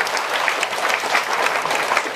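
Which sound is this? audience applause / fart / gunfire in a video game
audience applause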